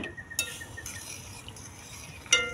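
A utensil clinks and scrapes in a pot of simmering food, with a few sharp knocks against the rim spread apart and faint stirring noise between them.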